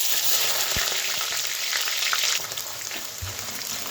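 Sliced onions hit hot oil with cinnamon, cardamom, cloves, peppercorns and bay leaf for egg pulao, giving a loud, continuous close sizzle with a few small knocks of the pan, and no voices.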